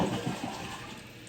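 Water rushes and swirls as a toilet flushes and begins refilling after a new flapper is fitted, a broadband wash that is loudest at the start and slowly settles, with no talking.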